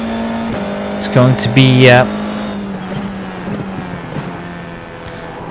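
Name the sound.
F4 race car engine in iRacing video game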